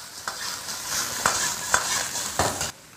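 Crab and pig trotters stir-fried in a little vegetable oil in a wok over high heat: a steady loud sizzle with several sharp scraping clacks of the spatula turning the pieces, close and alone.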